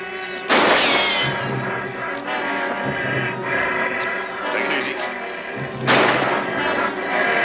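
Gunfire from a rifle fired out of a moving jeep, two loud sharp blasts a few seconds apart over a steady vehicle rumble, with voices talking in between.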